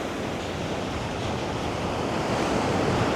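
Steady surf washing onto a New Jersey beach at a fishing spot, a continuous broadband roar of breaking waves with some wind buffeting, fairly close and loud, no voices.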